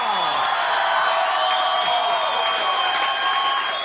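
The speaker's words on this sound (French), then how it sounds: "On applaudit, mesdames et messieurs" Applause from a television studio audience on a French-language talk show, a steady continuous wash of clapping with faint cheering and whoops.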